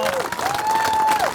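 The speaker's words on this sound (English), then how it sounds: "give yourself a big round of applause" An audience at a Utility Worker Appreciation Day event applauds utility workers: a short, steady wash of crowd clapping with a sustained whistle-like tone rising over it, near and fairly loud.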